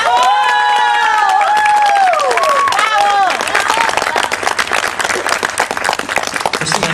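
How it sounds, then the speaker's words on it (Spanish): An audience at a dance show cheers, whistles and claps loudly for the dancer Aisha, with high whoops and shouts over the opening seconds, then settles into steady, dense clapping. "un muy fuerte aplauso para Aisha"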